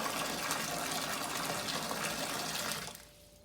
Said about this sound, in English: Fill up a pan of water to boil potatoes.